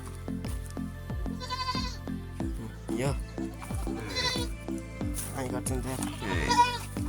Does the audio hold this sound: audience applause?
no